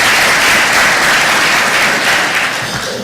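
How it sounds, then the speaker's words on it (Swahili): Dense applause from an audience at a Magereza DT SACCO savers workshop and training, loud and sustained for the whole stretch with no voices over it. "Makofi kwake."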